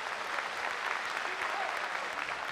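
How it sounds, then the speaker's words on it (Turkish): A studio audience at a Turkish television singing show gives a singer sustained, even applause. The dense clapping is steady and continuous, with no speech over it. "ben çok büyük bir alkış Suat için rica ediyorum sizlerden"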